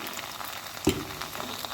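A paste of ginger, garlic and dried chili fries in a pan with fried onions, giving a brief, steady close sizzle broken by one soft clack of a utensil, with no voices.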